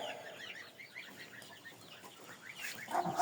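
Young chicks just moved from a brooder into a pen cluck and cheep softly while pecking around, a faint scattering of small bird calls with a slightly louder burst near the end and no talking.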